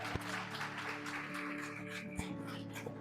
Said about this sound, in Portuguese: Aplauda o Senhor, vamos.